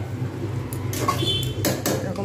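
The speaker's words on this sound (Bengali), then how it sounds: "মাঝে মাঝে একটু করে নাড়িয়ে দেবো।" A spoon clinks and scrapes against a pot while mutton curry with papaya and potato is stirred, with a few sharp metallic knocks over a low steady background hum.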